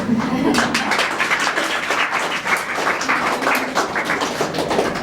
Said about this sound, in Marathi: या टाळ्या अंकितासाठी होत्या की कोणासाठी?